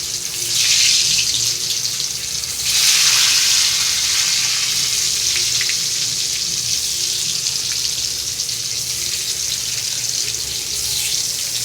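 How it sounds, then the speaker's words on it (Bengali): Steady loud sizzling of potatoes frying in hot oil, continuous with brief surges, close up and without voices. "তেলটা আমার গরম হয়ে গেছে তো আমি আলুগুলো এক এক করে দিয়ে দেবো"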